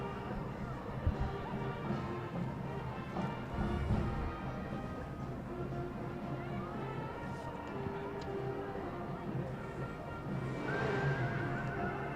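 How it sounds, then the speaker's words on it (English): Horses neigh and whinny several times against a busy parade crowd murmur, with one drawn-out, rising whinny near the end. "I swear I hear Mustangs neighing."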